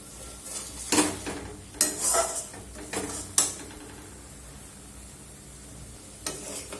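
Lote fish being stirred in a wok to dry out its water: intermittent metallic scrapes and clanks of the spatula against the pan over a faint sizzle, with quiet gaps between strokes.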